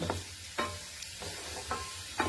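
Sliced onions frying in a pan on a gas stove, a low steady sizzle broken by several sharp scraping stirs at regular intervals, close and fairly quiet with no talking.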